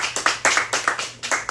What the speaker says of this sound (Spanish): primero vamos a dar un aplauso a todos aquí, pero a Wilkins en particular